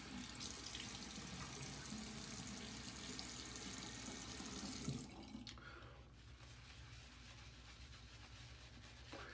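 Tap water runs into a sink as a face is wetted before shaving, a steady rushing flow that cuts off about halfway, leaving quieter splashes and drips.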